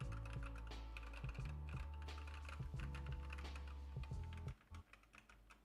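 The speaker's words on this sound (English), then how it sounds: "basically that is how it sounds, how keyboard sounds" Typing on an IQUNIX ZX75 mechanical keyboard, close and clear, a steady stream of crisp keystroke clicks and clacks over a low hum that stops abruptly near the end.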